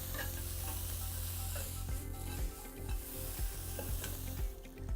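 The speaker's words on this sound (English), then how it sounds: "The sloped sides help you move the onions around so that you can really cook them quickly and easily" Onions sizzle loudly in a wok while being stirred and scraped around its sloped sides, a continuous close frying hiss punctuated by repeated scraping strokes, with no talk.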